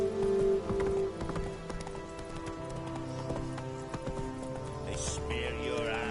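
The horse Roach gallops in The Witcher 3, giving rhythmic hoofbeat clip-clop amid game sounds and music, with a brief whinny near the end.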